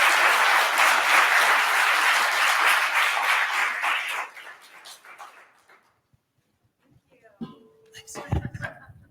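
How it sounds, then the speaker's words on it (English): A big round of audience applause for the panelists at a climate policy event fills the first four seconds loudly, then fades, followed by scattered voices and handling noises. "let's just have a big round of applause for our panelists"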